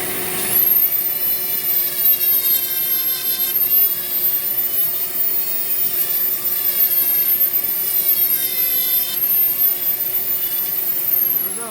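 A Dremel 4000 rotary tool on a flex shaft carves wood for a snowman figure, giving a high, steady whine with a faint wavering pitch and grinding that swells and eases in passes.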